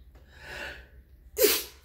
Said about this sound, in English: Ooh, I feel like I got a sneeze.